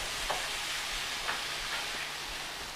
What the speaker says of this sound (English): so we're just going to stir this